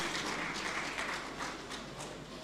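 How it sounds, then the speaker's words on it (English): Audience members at a national dialogue on gender norms and adolescent health clap in a faint, distant, steady patter. "Please can we give him a round of applause as he comes to take his remarks."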